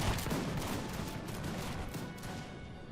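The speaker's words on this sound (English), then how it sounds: "We have heavy fire going on from both sides." Musket volleys crackle continuously from both sides in a Napoleon Total War battle, a dense, steady rattle of massed gunfire with no clear pauses.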